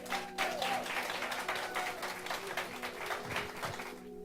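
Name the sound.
audience applause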